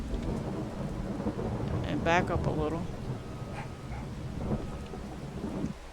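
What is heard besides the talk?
thunderstorm rain in a video game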